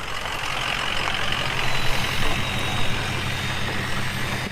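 A 7.3 engine runs steadily at idle, giving a constant, fairly loud broadband rumble and hum with no voices over it.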